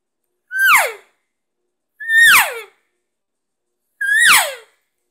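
A caller imitates an elk cow with a mouth call, giving three loud, close, high-pitched mews that break and slide downward, evenly spaced with pauses between and no talking.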